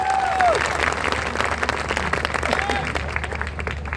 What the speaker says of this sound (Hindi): मैं चाहता हूं उन सब के लिए आपके एक बार जोरदार ताली होनी चाहिए।